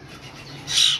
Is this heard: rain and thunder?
no